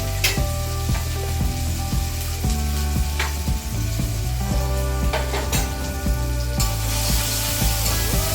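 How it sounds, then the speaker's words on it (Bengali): Turmeric and Kashmiri chili go into tomato, onion and green chili frying in a pan, giving a steady, close sizzle with repeated stirring scrapes and light utensil clinks throughout, with no voices. "এবার হলুদ আর কাশ্মীরি লঙ্কা দিয়ে দিচ্ছি"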